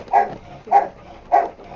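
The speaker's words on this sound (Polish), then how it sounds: "Dobry piesek, kochane" A dog at a dog hotel barks three times in a slow, evenly spaced series: short, close, moderately loud woofs with quiet gaps between them and no talking.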